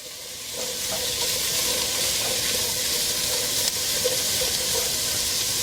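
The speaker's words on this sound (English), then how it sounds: "We're going to throw in one whole onion. We're going to go ahead and get that sauteed up." A whole onion sautéing in a pot gives a steady, fairly loud sizzle with soft hissing and occasional stirring scrapes, continuing unbroken throughout.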